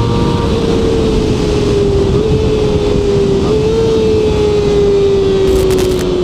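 A QJMOTOR SRK250RD, a four-cylinder 250cc motorcycle, idles loudly and steadily, its exhaust tone rising slightly and dipping in small blips of throttle, continuous and close throughout.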